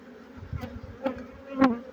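Bees buzz around a beehive, a close, steady drone that swells in a few short louder passes as insects fly near, with no talking.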